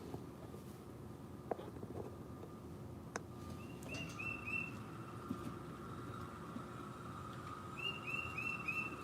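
A played recording carries a bird singing, faint distant chirps and short whistled phrases in a couple of repeated bursts over a quiet room hum.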